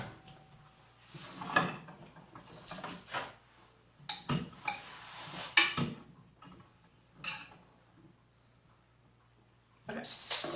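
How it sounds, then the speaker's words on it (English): A microwave dish of cheesy Brussels sprouts clinks and scrapes in scattered bursts as the lid is vented and the contents stirred, with quiet gaps between clatters. "I'm just going to vent the top and give them a stir."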